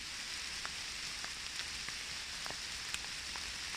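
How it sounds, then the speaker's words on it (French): Rain falls steadily in a wood, a soft even patter with scattered distinct drips landing on nearby surfaces, no voices heard. "Il pleut, vous le voyez"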